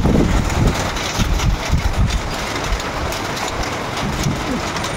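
Heavy rain pours steadily outdoors onto banana trees and surroundings, a dense continuous hiss that holds loud and even throughout with no voices.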